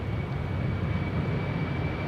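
Airliner rotating on the departure runway at Amsterdam Schiphol, a steady loud jet engine roar with a thin high whine, continuous and close, with no voices.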